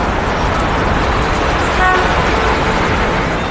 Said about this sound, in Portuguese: Isso acontece quando todos os carros saem ao mesmo tempo